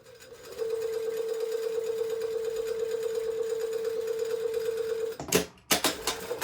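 Domestic sewing machine stitching a sleeve placket on a shirtdress, a steady rapid whirring hum of needle strokes for about five seconds, then stopping with a few clunks and handling noises, close and without speech.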